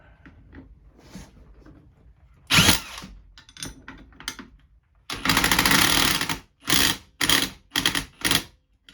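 A power tool drives bolts into the driveshaft pinion flange of a 2004–2009 Cadillac SRX, with loud close bursts of whirring and rattling hammering separated by short pauses and faint clicks.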